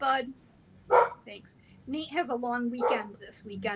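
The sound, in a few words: dogs barking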